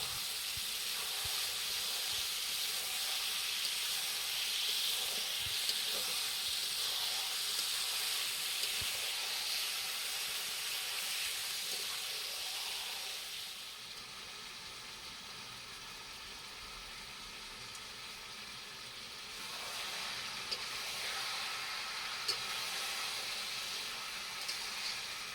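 Marinated chicken sizzling in a wok of spiced masala, a loud broad hiss that drops back for a few seconds and then rises again, continuous with no voices.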